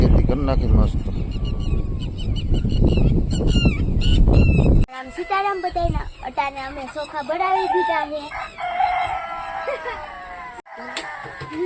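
Loud honking and crowing of roosters, repeated calls one after another, close by, with voices and outdoor commotion of a village weekly market around them.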